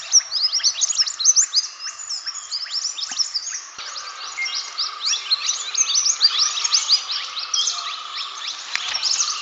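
Dense, continuous bird chirps and tweets, many quick high calls overlapping at a steady level with no pauses and no voices.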